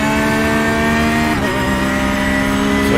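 A Porsche 911 GT3 R race car engine in the iRacing sim at Bathurst holds high, steady revs, loud and continuous throughout, with a slight dip in pitch partway through before climbing again.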